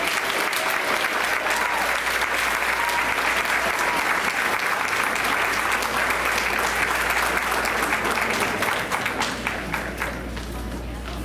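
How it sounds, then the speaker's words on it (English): An audience at a school board meeting applauds an Educator of the Year award winner, with sustained, loud, even clapping and some crowd murmur, easing off slightly at the end. "Let's give her a big round of applause."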